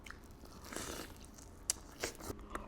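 Someone bites into a garlic knot at a meal of butter chicken pizza: a few soft, close crunching bites and chews, fairly quiet and with no speech over them.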